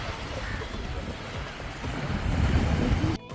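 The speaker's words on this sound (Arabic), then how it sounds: "وهنا بقى ساسكت قليلا وهسيبكم تسمعوا حلاوه صوت البحر" Sea waves wash onto the shore at a beach resort in Ain Sokhna. The roar is steady and broadband with wind noise, building slightly toward the end, and no one speaks.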